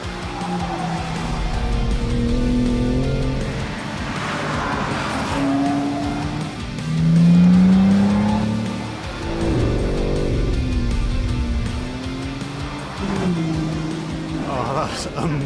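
A BMW M3 Competition Touring and an M4 CSL run up Goodwood Hill; engine revs rise and fall with gear changes and a tire squeal, mixed under excited talk.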